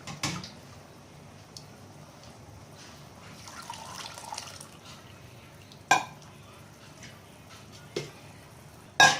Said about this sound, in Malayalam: ബാക്കിയുള്ള പാല് നമുക്ക് ഇതുപോലെ തന്നെ കുറേശ്ശായിട്ട് അരിച്ചൊഴിച്ചു കൊടുക്കാം.